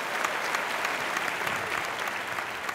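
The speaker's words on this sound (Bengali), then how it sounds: "জোরে হাততালি।" A studio audience at a Bengali television quiz show claps loudly and continuously, a dense, even wash of applause with no break for several seconds.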